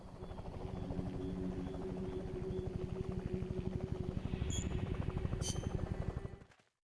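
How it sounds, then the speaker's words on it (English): A Hind helicopter arriving in the video game Metal Gear Solid: Peace Walker, its steady rapid rotor chop loud and continuous, with a couple of brief high chirps before the sound cuts off abruptly. "I know normally we'd watch the helicopter or the vehicle come rolling in, but it's a hind."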